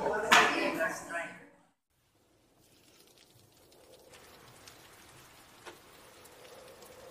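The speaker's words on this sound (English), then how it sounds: "Heavy winds howled through the streets that night, and raindrops pattered against the window pane." Soft, steady rain patters against a window pane through a stormy night, a faint continuous wash of drops with occasional louder taps, following a brief burst of speech at the start.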